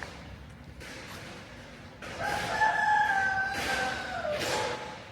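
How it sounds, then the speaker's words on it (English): A rooster crows twice in a village in Guangdong, China, loud and fairly close, the calls drawn out and rising over a steady background hum. "And there's a rooster in here for some reason."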